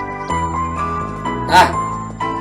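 A loud bell chime rings out a sequence of clear sustained tones, with a bright clattering burst partway through.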